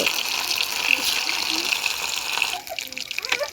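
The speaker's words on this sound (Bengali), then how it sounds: "এখন এটাকে তেলের মধ্যে দিয়ে দিলাম চিকেনটা চিকেনটা সুন্দর মতন করে ভাজি করব" Chicken pieces fry in hot oil on a stove, a dense steady sizzle and hiss that holds loud, then drops abruptly to a softer, crackling spatter with occasional pops.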